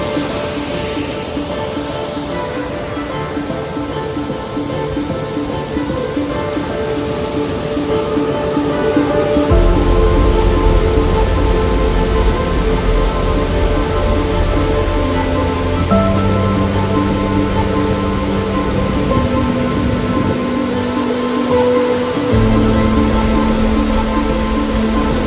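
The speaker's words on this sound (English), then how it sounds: "let you listen to the waterfall sound" Heavy waterfall in Meghalaya, India: a continuous broad rush of falling water that grows louder and fuller partway through, with steady low tones underneath and no voices.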